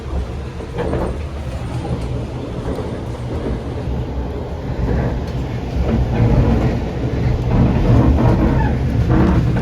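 KA Parahyangan executive passenger train running on curving mountain rails between Bandung and Jakarta, a continuous loud rumbling roll with rattling wheel noise and occasional clatter, building slightly louder toward the end, no talking.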